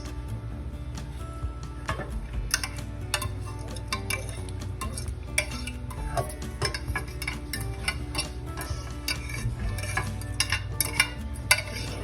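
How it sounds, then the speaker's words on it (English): A spoon stirs food around in a pan for a home-cooked dinner, with scraping and light clinking against the metal in a steady, busy rhythm throughout, close and moderately loud, no talking. "Take our spoon, stir this all in."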